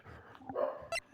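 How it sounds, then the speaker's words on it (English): Dogs bark indoors in a few quick, close yips and woofs within a second, one sharp bark standing out near the end, no speech over them. "Shush, dogs!"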